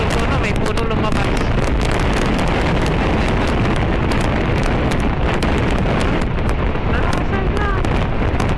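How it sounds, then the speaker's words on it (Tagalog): Heavy wind buffets the microphone while riding a Honda Click 150i scooter on an open road, a loud constant roaring rumble throughout with a voice partly audible underneath. "Mahangin, pero mainit."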